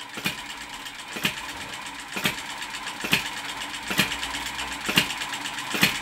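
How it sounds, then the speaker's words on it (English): A small Retrol B01 ball-top vertical hit and miss model engine runs while driving an accessory, giving a steady mechanical whir punctuated by sharp regular clicks about once a second, close and moderately quiet, with no talk. "the little B01 engine doesn't appear to have any problems at all driving this"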